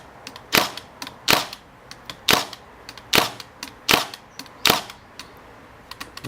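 A Makita DST630 18V narrow crown stapler firing staples into timber, eight sharp, loud, close snaps spaced roughly a second apart in an even rhythm, with no talking.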